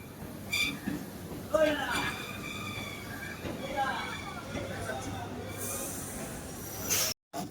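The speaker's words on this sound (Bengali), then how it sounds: "বারুইপুর লোকাল বাঁদিকে ঢুকছে" A Baruipur local train rolls into a busy station platform, its low rumble and rail noise running steadily beneath crowd chatter and someone talking nearby.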